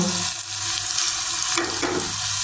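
Sliced onions frying in a pan as a first step for a rohu fish roe bhuna, a steady close sizzle with a few soft stirring scrapes and no voices.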